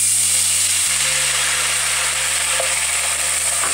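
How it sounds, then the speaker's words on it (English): Cooking wine hits the hot pan used to fry pork chops, giving a loud, steady hiss of sizzling that holds evenly throughout over a low background hum. "Using the same pan, we're going to add the cooking wine."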